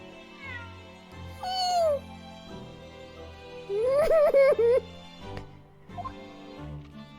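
A cat meows twice inside the Ace Attorney Chronicles video game, a short mew and then a longer wavering one, set against soft game music with no talking.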